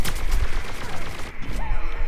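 Rapid bursts of video game gunfire from an imp character, loud and close, firing continuously for about two seconds with no talk over it.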